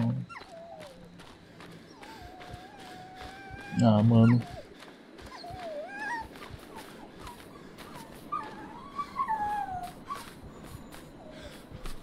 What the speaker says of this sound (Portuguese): vai dizer que o cachorro caiu na armadilha